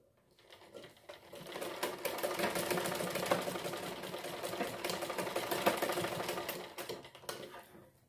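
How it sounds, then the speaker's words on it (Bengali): Sewing machine stitching thread into the open side of a fabric piece, a fast continuous mechanical rattle running steadily for several seconds at moderate, close level. "এই খোলা সাইডে আমরা সেলাই ডুরিটা ঢুকিয়ে দিলাম, ঢুকিয়ে আমরা সেলাই করে দিচ্ছি।"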